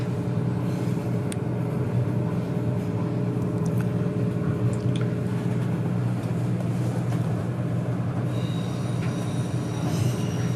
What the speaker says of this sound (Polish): Pociąg wjeżdża na stację Grodzisk Wielkopolski.